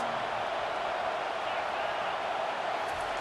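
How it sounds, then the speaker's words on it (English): A stadium crowd roars in the video game EA Sports College Football 25 during a Texas vs Arkansas game, a dense, steady wall of cheering noise that holds at full level throughout. "Listen to this crowd just shaking the girders of this place, trying to help their defense."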